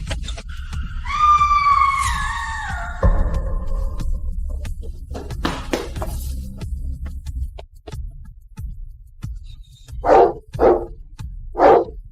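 An aggressive dog barks three times near the end, loud and close, after a stretch of whining tones, dull thuds and scuffling.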